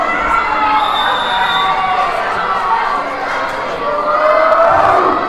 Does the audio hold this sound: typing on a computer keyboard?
no